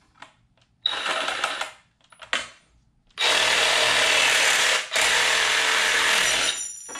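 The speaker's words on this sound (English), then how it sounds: "Taking the Sawzall." A Sawzall reciprocating saw cuts in loud, close bursts: a short run, a brief start-stop, then a long sustained cut with a momentary dip before it stops.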